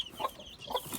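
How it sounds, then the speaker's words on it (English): Hens cluck softly in a barnyard coop where chicks are raised, two short bursts of fowl calls rising over quiet background noise. "We raise a lot of baby chickens in here."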